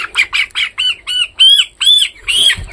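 A poultry chicken, about 18 days old, squawks loudly and repeatedly while being caught for weighing, roughly nine harsh close calls in quick succession with a brief rustle at the end.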